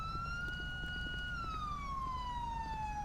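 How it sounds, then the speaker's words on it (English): Police siren in GTA 5 during an LSPDFR arrest, a loud continuous wailing tone that slowly rises and falls over steady engine rumble, with no voices. "Don't think that many sirens is necessary."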